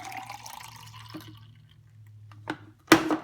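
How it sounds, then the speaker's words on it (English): A drink spiced with Tabasco is poured into a glass nearby: a soft, steady liquid trickle is followed by a few sharp clinks and splashes near the end. "Anyway, I'm just going to pour that in there."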